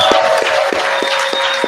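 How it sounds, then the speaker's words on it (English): A conference audience in Vegas gives the volunteers a loud, continuous round of applause. A rhythmic pulse of closer claps sits on top, and a faint steady tone runs under it. "So let's give these guys a huge round of applause."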